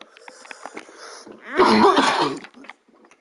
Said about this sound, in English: I do apologize for coughing.